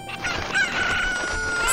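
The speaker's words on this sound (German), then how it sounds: "diese verdammten Hühner." Chickens in the Zelda Ocarina of Time video game cluck and squawk in a busy, continuous flurry of bird calls, fairly loud and close, with no talking over them.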